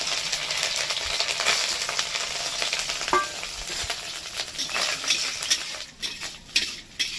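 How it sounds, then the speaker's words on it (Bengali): Small chopped coconut pieces frying in hot oil, a dense close sizzle with spoon stirs and light metal clinks against the pan, settling slightly toward the end. "ওই কাটা নারকেল এগুলোকে ভেজে নেব।"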